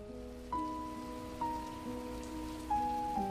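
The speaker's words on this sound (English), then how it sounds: "A light rain began to fall." Light rain falls steadily on a surface under a faint background of sustained tones, soft and even throughout with a few gentle surges.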